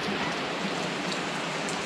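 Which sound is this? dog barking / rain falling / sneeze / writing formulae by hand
rain falling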